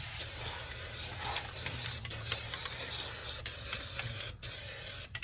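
Undercoating sprays onto a Jeep Wrangler in a steady, continuous hiss without a break for several seconds, loud and close, with a low rumble underneath and a few brief dips.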